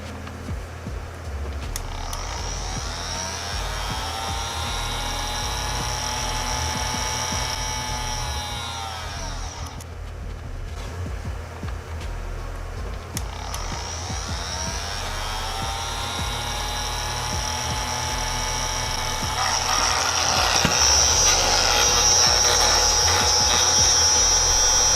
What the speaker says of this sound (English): Once plugged in, I turn on the cooling fans and that's it.